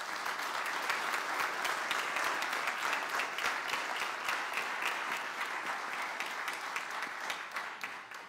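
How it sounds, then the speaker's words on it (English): Congregation applauding new members at a First Christian Church Easter service: steady dense clapping from a crowd, sustained and fairly even throughout, no talk. "Can we clap for these folks?"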